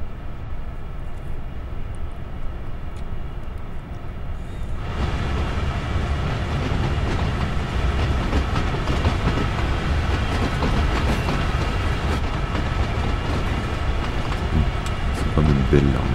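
Train Sim World 4 locomotive pulling away and running, a steady broadband rumble of wheels and rail noise that swells after a few seconds and carries on continuously, with faint clicks over the top.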